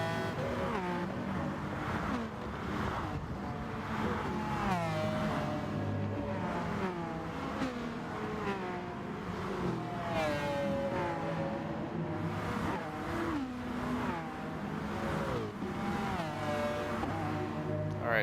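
A race car engine revs and shifts continuously in a racing video game, loud and sustained with rising and falling pitch as the car brakes and accelerates through corners near a wall.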